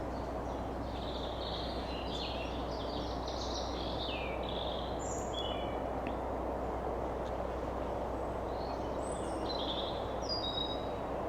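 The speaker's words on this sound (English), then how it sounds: "You hear the birds down here, it's wonderful." Several birds chirp and whistle in short high phrases over a steady background hiss, heard from a narrowboat, some calls near, others more distant.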